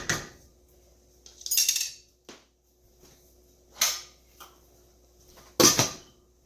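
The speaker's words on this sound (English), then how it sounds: "now I'm going to cover it" A lid is set over a cooking pan of Italian-style zucchini, giving a few metallic clanks and scrapes spaced apart with short quiet gaps, close by and with no talking.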